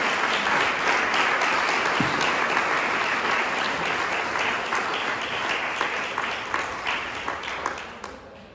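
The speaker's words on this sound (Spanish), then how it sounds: "Dile un aplauso al Señor entonces." A church congregation applauding together during a Spanish-language service, dense sustained clapping that gradually thins and fades out over several seconds.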